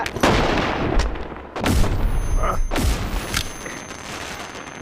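Flare guns fired in the game Animal Company: several sharp, booming blasts spaced a second or so apart, loud and close, with a faint high tone lingering between shots.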